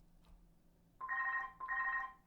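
A telephone rings twice in quick succession, two bright electronic trills close by, in a quiet room during an online rapid chess game.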